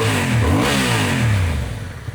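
A warmed-up Honda CB750 Hornet parallel twin on its stock exhaust revs up and back down, a steady mid-pitched engine drone swelling through the rev then settling, loud and close with no talking.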